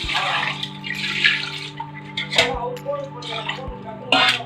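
Tap water runs and splashes while sea crab is washed clean, with clinks of a bowl or pan and a steady hum underneath, close and continuous for several seconds.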